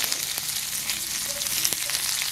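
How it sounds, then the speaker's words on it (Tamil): Mustard seeds and onion sizzle and fry steadily in hot oil in a pan, with a faint pop or two rising over the continuous crackle. "கடுகு போட்டு வெங்காயத்தை போடுங்க."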